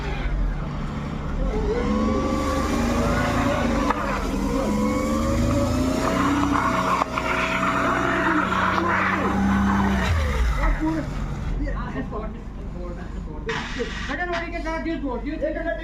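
A car passes on a snow-covered road during snowfall in Kishtwar, its engine droning steadily and fairly loud for about ten seconds before fading, with people talking throughout.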